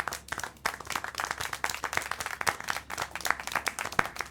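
A crowd claps steadily for several seconds in the video game Syberia: The World Before, a dense patter of hand claps with sharper individual slaps popping out, no voices over it.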